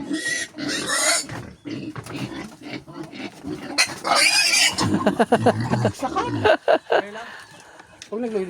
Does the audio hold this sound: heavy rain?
no